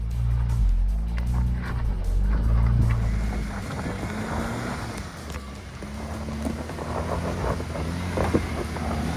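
A GWM Tank 300 climbs an off-road hill, its engine droning and labouring with shifting pitch under heavy wind buffeting on the microphone, steady and fairly loud throughout.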